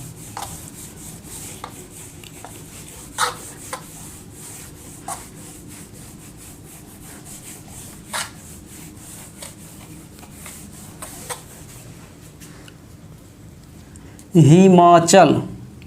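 A marker or chalk scratches across a board in short, faint strokes at irregular intervals over a quiet room, with a brief louder voice sound near the end.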